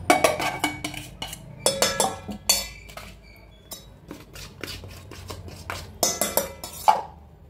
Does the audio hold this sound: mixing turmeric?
yes